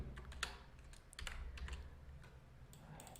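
Typing on a computer keyboard while writing HTML and CSS code, with quick irregular clusters of soft key clicks, close and quiet, and no voices.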